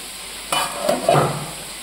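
Potatoes fry in a pan and get stirred, sending up a short, close burst of sizzling with a couple of scraping strokes that stands out against a quiet hiss before and after.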